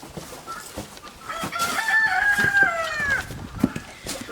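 A rooster crows in a long, wavering call at mid-distance on a small egg farm, with scattered hen clucks before and after and steady outdoor background noise.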